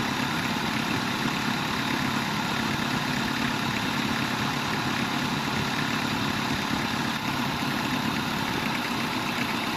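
Car engine idling with its air-conditioning compressor running, a steady, even drone with broad hiss that stays level and unbroken throughout, with no voices.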